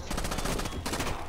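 Rapid automatic gunfire from Rainbow Six Vegas 2, a tight burst of evenly spaced shots, loud and close, over its short length.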